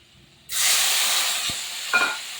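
Water poured into a hot pan of snakehead fish curry hits with a sudden loud hiss of steam and sizzle, then settles into a steady, slowly fading bubbling spray, close up with no talking.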